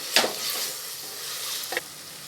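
Tomato sautéing in a pan for vegetable biryani, a steady soft sizzle with a couple of sharp stirring scrapes, fairly quiet and close with no voices.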